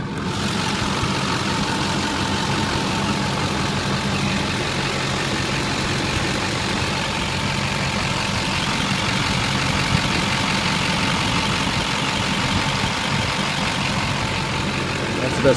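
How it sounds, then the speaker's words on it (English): Steady low engine rumble of a 2004 GMC Sierra Duramax diesel 4x4 crew cab idling, heard under the hood, running continuously at a constant idle, fairly close, with a faint background hum and no change in pace. "let you listen to it run under the hood"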